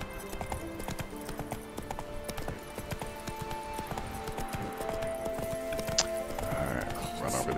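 Horse hooves clip-clopping in rapid, steady rhythm during a Witcher game ride, with a horse's whinny near the end and game ambience and music tones underneath, no speech.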